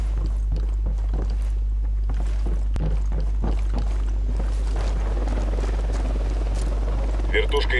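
Enemy Unidad helicopter approaching in the video game Ghost Recon Wildlands, a steady low rotor thump under scattered game effects and talk.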